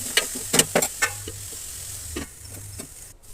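Capsicum and turmeric frying in a pan, steady sizzle punctuated by several quick stirring scrapes early on, then a softer continuous hiss, close up with no voices.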